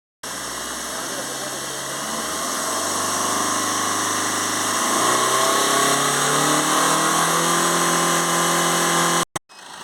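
A Tata car engine revs up from idle, its steady mechanical drone climbing gradually in pitch and holding high before cutting off abruptly near the end, heard up close.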